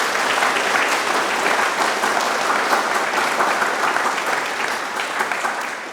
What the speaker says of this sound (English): Let's give all those volunteers a round of applause